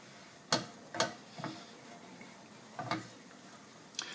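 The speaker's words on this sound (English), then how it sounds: "Give it a little stir." A spoon scrapes and taps around a pan of chillies and chopped garlic, giving a handful of short, sharp knocks spaced irregularly over a quiet sizzle.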